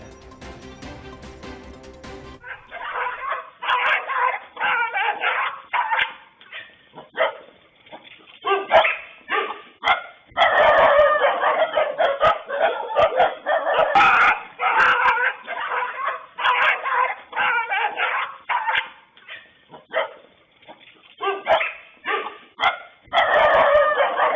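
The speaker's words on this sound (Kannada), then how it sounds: "ಈ ವೇಳೆ 4-5 ನಾಯಿಗಳು ಕೂಗಾಟ ನಡೆಸಿವೆ." Several dogs bark repeatedly and frantically, overlapping in loud bursts with brief pauses, sounding close and agitated.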